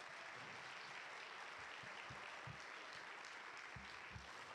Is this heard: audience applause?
yes